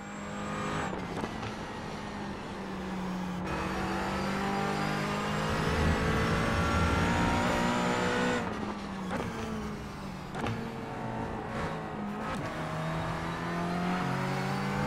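A McLaren 570S GT4 races in iRacing at Hockenheim, its engine droning and revving through rising gear pulls with sharp shifts and drops, loud and continuous from the cockpit.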